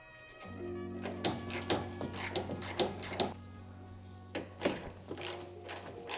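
A ratchet undoes the radiator fan bolts on a Mazda MX5, giving quick runs of close clicking bursts over a steady low mechanical hum.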